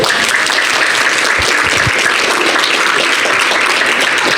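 Loud, dense applause from a gathered crowd at an exhibit soft launch, a sustained wash of clapping close and steady with no talking over it.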